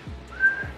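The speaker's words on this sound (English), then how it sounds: "A whistling sound." A short, thin whistling tone from a thrown pocket arrow flyer toy rises and holds briefly as it flies through the air, fairly faint and close.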